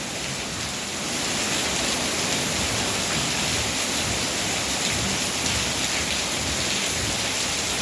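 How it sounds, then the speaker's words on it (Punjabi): Heavy rain pours down without a break, a loud, even roar of drops hitting surfaces that swells slightly after the first second and holds steady, with no voices. "ਕਾਫੀ ਮੀਂਹ ਉਤਰੇ ਆ"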